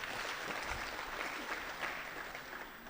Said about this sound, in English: Let's give a clap to Richard.